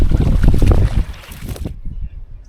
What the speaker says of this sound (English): Take it until that wind stops.